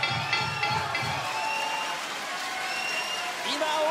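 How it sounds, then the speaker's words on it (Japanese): A packed boxing crowd at Korakuen Hall applauds in a steady, continuous roar of clapping as a ten-round super bantamweight title fight ends, with an announcer talking over it. "今大きな拍手に迎えられ両者が10ラウンドを戦い切りました"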